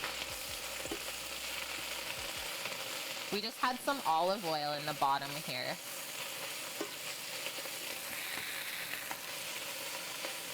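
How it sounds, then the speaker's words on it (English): Olive oil sizzles in a pan on medium heat while food is stirred, a soft steady hiss broken by a few scraping stirs, with someone talking quietly over it. "See those sizzles, or do you hear those sizzles?"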